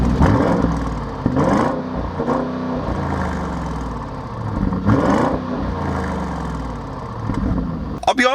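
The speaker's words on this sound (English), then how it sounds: "I'm about to do an exhaust note on a third row SUV." A 2021 Audi SQ7, a 500 hp third-row SUV with its exhaust valves open, revs repeatedly and loudly up close, several rising and falling sweeps over a rumbling idle, ending in a sharp burst.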